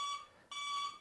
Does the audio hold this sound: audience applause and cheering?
no